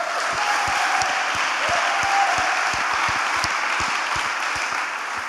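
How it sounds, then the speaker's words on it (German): Church audience giving a loud, sustained round of applause for the kitchen team, dense clapping with a few sharper claps standing out and a brief whoop, close and continuous. "Hier einen Applaus für das Küchenteam."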